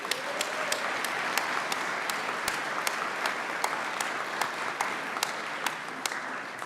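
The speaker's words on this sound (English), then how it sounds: "Would the audience please join me in a round of applause for the members of our faculty and professional staff?" An audience at a pharmacy school white coat ceremony applauds the faculty and professional staff, a steady wash of many hands clapping at moderate distance with sharper individual claps standing out throughout.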